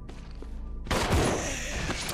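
After a quieter moment, a loud burst of weapon fire erupts, a heavy grenade launcher shot at zombies in Resident Evil Zero, followed by lingering blast noise with no talking.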